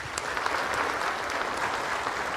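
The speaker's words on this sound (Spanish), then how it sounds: "a él le recibimos con un caluroso aplauso" A congregation at Mass gives warm, continuous applause to welcome a bishop. The dense clapping fills the space at an even level throughout.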